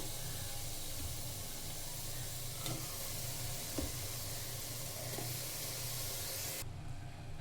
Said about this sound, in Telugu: ఇప్పుడు దీంట్లోకి తరిగి పెట్టుకున్న టమాటాలు యాడ్ చేస్తున్నాను.